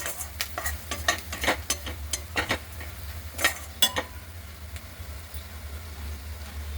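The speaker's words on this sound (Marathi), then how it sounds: "आता आपण याच्यामध्ये शेंगदाण्याचं कूट घालून 1 मिनिटभर शेंगदाण्याचं कूट परतून घेऊ।" Crushed peanuts are sautéed with onion in a pan, giving a soft sizzle under a run of scraping, clinking spoon strokes that taper off into a quieter sizzle.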